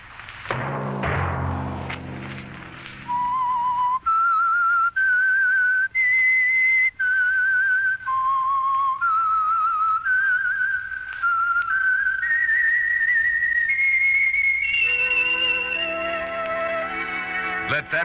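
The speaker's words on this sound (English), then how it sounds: "Let that whistle be your signal for the Signal Oil program, The Whistler" The Whistler radio show's signature theme, a lone whistled melody of sustained, gliding notes in separate phrases, loud and close, following a brief thump and orchestral chord at the start and ending on a fuller orchestral swell.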